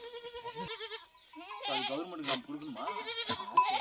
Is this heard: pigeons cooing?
no